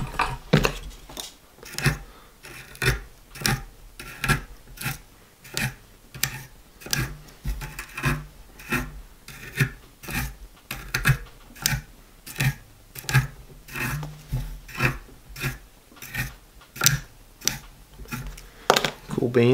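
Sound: combing out a synthetic fly-tying fiber head with a comb

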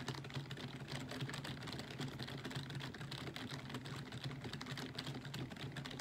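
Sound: typing on a keyboard in an online business simulator video game

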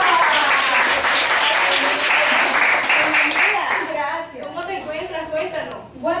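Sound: applause

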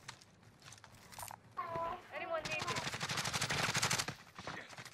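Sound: gunfire in a video game

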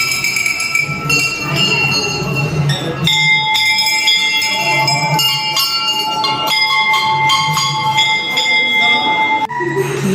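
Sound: temple bell ringing

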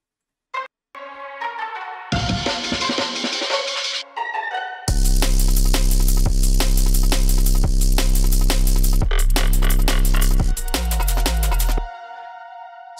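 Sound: distorted 808 bass synth

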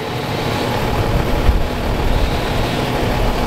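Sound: chainsaws running

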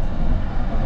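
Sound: train crossing the Crimean Bridge

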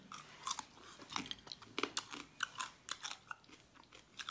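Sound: crunchy chewing of raw seafood

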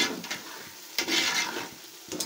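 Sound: tomatoes frying and being stirred in a pot

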